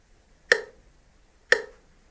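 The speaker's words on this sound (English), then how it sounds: "So I'm going to put the metronome onto 60" A metronome set to 60 beats per minute gives two crisp, isolated ticks exactly one second apart, close and fairly quiet against silence.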